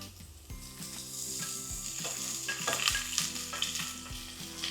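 Onions and grated garlic sizzle steadily in hot oil in a pan, a continuous close frying hiss with occasional stirring scrapes and faint clinks over a low background hum.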